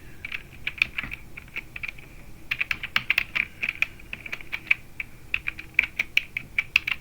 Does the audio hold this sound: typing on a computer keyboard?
yes